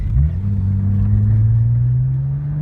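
A 2002 Porsche 911 Turbo engine pulls in second gear, a loud steady low drone that rises slowly in pitch as it accelerates, close up with no talk.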